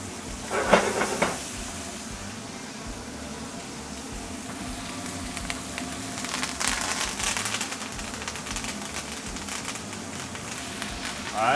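Onions, shallots and garlic sizzle in a hot steak pan, a steady broadband hiss with crackling bursts that runs the whole time at moderate loudness, rising briefly in the middle and again at the end.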